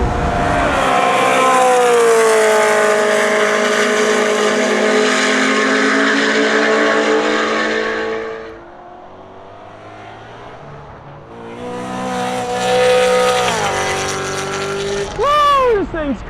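A BMW M car driven hard on a race track, the engine roaring loud and close at high revs through a long pull, dropping briefly and then climbing again through rising gear changes, with someone talking over it.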